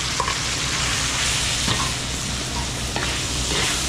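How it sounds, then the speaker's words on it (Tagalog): Garlic and onion sautéing in a hot pan, heard as a steady, close, broadband sizzle with a few soft stirring scrapes and no talking. "papupulayin lang natin yung bawang sibuyas natin"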